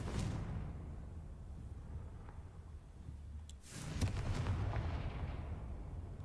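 Confringo blasting spell from Hogwarts Legacy going off as a loud burst of explosive noise, with a sharp crackling blast midway and a rumbling tail of smaller pops that follows.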